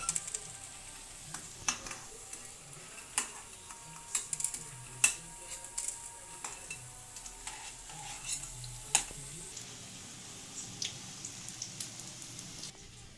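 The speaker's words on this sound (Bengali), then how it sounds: "একে একে পাকোড়াগুলো আমি ভেজে নেব।" Cauliflower pakoras fry in hot oil with a soft, faint sizzle broken by scattered pops and clicks of stirring, with no talk.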